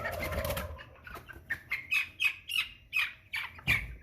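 American Bresse chicken pullet, about six weeks old, squawking while handled for weighing, a run of about ten short, sharp calls in quick succession after a brief rustle, close and fairly loud.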